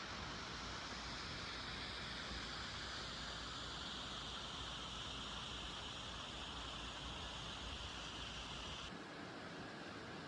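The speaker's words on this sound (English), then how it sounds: "beautiful also to wake up to the sound of the roaring waterfall" A waterfall in a fjord gives a steady, even roar heard from a distance. The broad wash of noise is continuous and fairly quiet, with no other sounds standing out.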